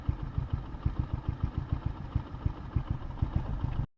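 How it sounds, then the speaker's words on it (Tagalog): A truck's engine rumbles with a steady, mid-pitched clattering pulse, moving through a flooded road with water deep enough to stop motorcycles. "may dumadaan na truck"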